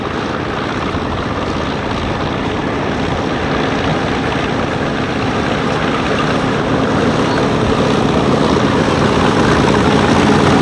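A Hawker Sea Fury Mk 11 and a Grumman F8F Bearcat, piston-engined propeller fighters, fly over Duxford at an air display, their engines making a loud, continuous droning roar that holds steady throughout.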